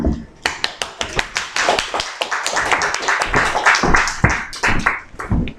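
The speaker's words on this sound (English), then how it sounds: "Applause for Andy." A small audience at a poetry reading claps for a poet, starting with a few scattered sharp claps that build into steady, close, moderately loud applause with some voices mixed in.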